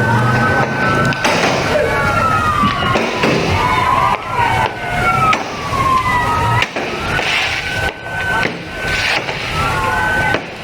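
Fireworks burst and crackle repeatedly at a New Year's Eve 2023 celebration in Kaur, Bengkulu, the loud pops and whistles blending with crowd noise and people talking.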